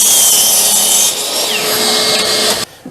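A power saw cuts through excess wood while building a deck, a loud, close, bright rasping whine for over two seconds that stops abruptly.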